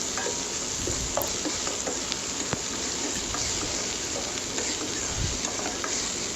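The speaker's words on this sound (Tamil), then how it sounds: "இது மாதிரி ஆனியன் சேர்த்துட்டு நல்லா ஒரு கிளாஸ் மாதிரி வர நேரத்துக்கு நம்ம வதக்கியாச்சு" Chopped onion sautéing in hot oil with fennel and curry leaves, a steady close sizzle with intermittent stirring scrapes and small taps throughout, no voices.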